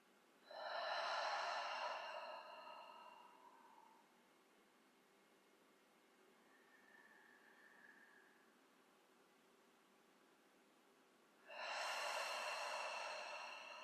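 Slow, deep breaths taken during a guided meditation, two long airy inhale-exhale swells several seconds apart, close and soft, with a fainter breath between them and no talking.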